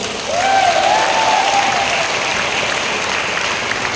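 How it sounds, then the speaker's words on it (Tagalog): A congregation claps together at a church general assembly in Batangas, a steady, dense wash of applause filling the room at even loudness, with a voice briefly audible over it. "Okay, lahat na may kusa, pumalakpak sa Diyos."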